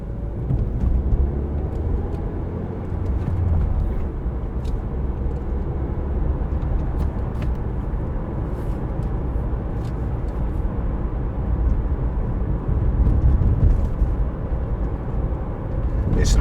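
Peugeot RCZ coupe on a test drive through Hoghton and along the M65, a steady low engine and road rumble with tyre noise held at constant loudness throughout, no talking.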